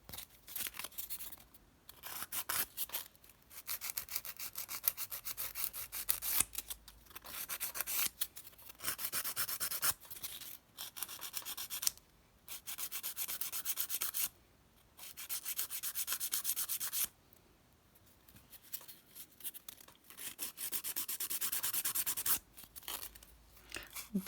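Nail file rubbing back and forth across a fingernail during a nail fill, a close, soft, rasping scratch in repeated strokes broken by brief pauses.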